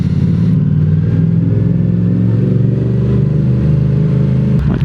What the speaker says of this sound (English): Ruin everyone's day with the engine noise.